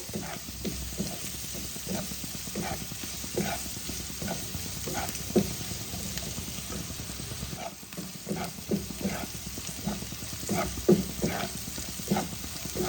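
Onion frying in a pan for a Bengali rohu fish curry, stirred in a steady rhythm: repeated scraping strokes over a constant sizzle, close and moderately loud.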